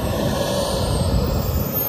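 An RC model aircraft flies at an airshow, its engine a steady, loud droning roar with a faint shifting whine, sustained without talk.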